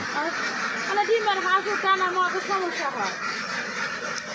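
Several ducks quack nearby in a busy, overlapping chorus, with a voice talking softly underneath.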